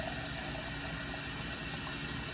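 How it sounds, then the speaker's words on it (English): Water runs steadily into a pot, a constant rushing hiss at close range with no pauses and no talking. "fill up your pot of water."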